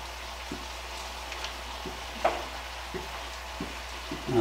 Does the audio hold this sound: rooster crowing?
no